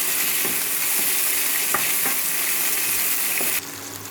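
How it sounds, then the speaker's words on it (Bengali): Chopped garlic, green chilies and bay leaves frying in hot oil in a pan, a steady loud sizzle with a few soft stirring clicks, no talking. "ভেজে নেবো ভালো করে।"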